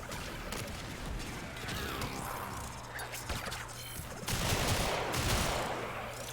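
Mesa's Gunslinger pistols fire in rapid, continuous bursts in Warframe's Duviri Paradox, a dense rattle of shots with mechanical clatter, growing louder toward the end.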